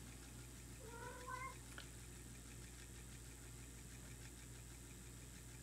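A house cat meows a few short times near the start, moderately close, over a steady low engine-like hum that runs through the whole stretch, with no talking.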